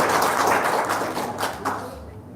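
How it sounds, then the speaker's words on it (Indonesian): Studio audience clapping at an Indonesian talk show, a short burst of applause that is loud at first and gradually thins out over a couple of seconds. "Tepuk tangan dong."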